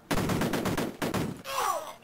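Loud bursts of gunfire in the Amiga game Cannon Fodder, two thick rattling volleys in quick succession, followed by a fainter trailing sound effect.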